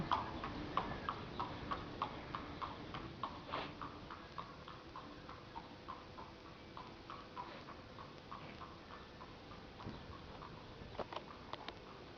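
A horse being ridden clip-clops along at a steady walking rhythm, its regular hoofbeats soft and slightly distant over a quiet outdoor background.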